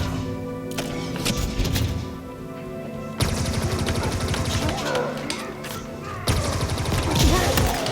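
Gunfire in Halo Infinite rattles out as dense, rapid bursts of shots that stop and restart, loud and close, with some faint game noise between volleys.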